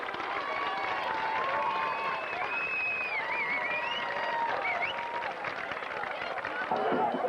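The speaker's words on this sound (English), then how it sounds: "may we have a large round of applause for today's Youth League football players and tomorrow's Daniel Hand" A stadium crowd applauds youth league football players at a 1991 high school football game, Hand versus Notre Dame of Fairfield. Steady, distant clapping and hubbub run throughout, with whistle-like tones rising above the crowd noise.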